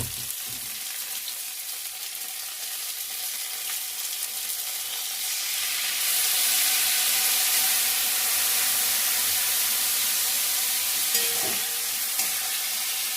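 Spiced water hits a pan of fried winter vegetables for a tangra fish curry, and a loud, steady sizzling hiss swells and intensifies partway through, close up, with no talking.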